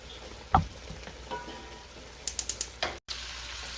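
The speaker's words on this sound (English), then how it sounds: "now bringing you over to my little onions that I'm frying for my fish" Onions frying in a pan as part of a fish meal give a soft, steady sizzle, with a few sharp utensil clicks and taps near the end and no talking.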